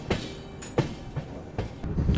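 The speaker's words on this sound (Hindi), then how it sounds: "तो यही अंदर से ही मैं जो ट्रैक साउंड है वो एंजॉय कर रहा हूँ।" Wheels rolling over track joints heard from inside a moving coach of the Rishikesh–Prayagraj Sangam Express, a few irregular clunks over a steady rumble, fairly close and with no talk.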